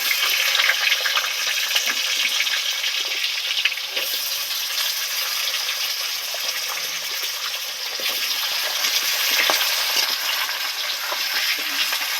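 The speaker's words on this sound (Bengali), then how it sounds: "তেলের মধ্যে আলুর টুকরোগুলো উঠিয়ে দেবো" Potato pieces deep-frying in oil, a dense, continuous bubbling hiss that stays loud and even throughout, close by, with no voices.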